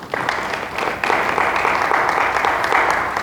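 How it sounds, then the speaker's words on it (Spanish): A church congregation claps loudly for Jesus Christ during a sermon, a thick, continuous wash of many hands that swells slightly after the first second and holds steady, with no talk over it. "Dale fuerte las palmas a nuestro Señor Jesucristo"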